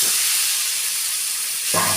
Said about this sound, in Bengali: এবার ম্যারিনেট করে যে চিকেনটা আমি রেডি করে রেখেছিলাম সেগুলো আমি দিয়ে দিলাম।